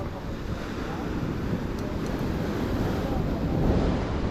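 Strong ocean waves crash at a fishing spot with churning surf, mixed with gusty wind buffeting the microphone. The roar is loud and continuous throughout.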